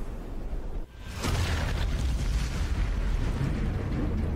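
A loud, sustained explosion in the Sniper Elite 4 video game follows a sniper shot, with a brief dip and then a broad rumbling roar that fills the rest of the moment.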